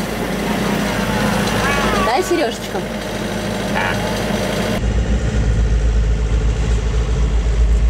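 A sailing yacht motors without sails between Santa Ponsa bay and Soller, its engine a steady low drone that deepens into a heavier rumble partway through, while a couple of people exchange brief words over it.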